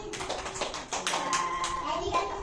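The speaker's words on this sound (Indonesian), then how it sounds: "Yuk, tepuk tangan kita semua." Children clapping their hands together in a classroom, a quick run of close, sharp claps with some overlapping voices of kids in the room.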